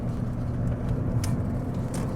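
Steady, low engine and road rumble from a 2012 Lexus CT200h hybrid pulling away in sport mode, heard from inside the cabin as a continuous drone with faint higher swells and no talking.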